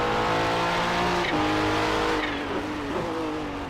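A Nissan race car in a GT championship race at the Nürburgring tears past at high speed, its engine a sustained loud howl with gear-change shifts in pitch and a faint tire squeal, fading slightly as it moves away.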